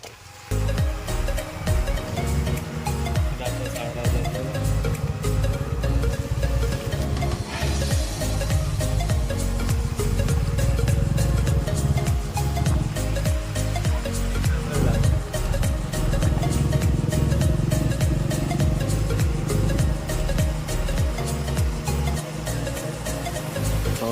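A motorbike engine hums steadily throughout while riding, with wind rush and road noise, fairly loud and continuous.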